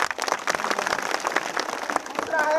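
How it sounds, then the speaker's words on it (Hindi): Audience at a caste-issues meeting with a memorandum to the collector bursts into loud, sustained clapping from many hands, dense and continuous throughout with no talk over it. "इसके लिए जोरदार ताली।"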